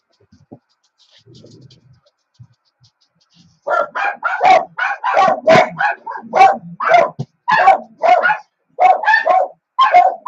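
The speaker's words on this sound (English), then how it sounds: "The dog's driving me crazy" A dog barks in a quick run of loud, close barks after a quiet start with a few faint sounds, the barking repeating in bursts until the end.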